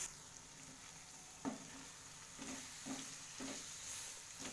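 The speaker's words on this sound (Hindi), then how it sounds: "अब इसमें हम ऐड कर देते हैं हल्का सा वाटर" Capsicum curry, being made on the way to a paneer masala, sizzles and fries steadily in a pan, with a few short louder bursts of spitting as a little water hits the hot oil. There is no talking.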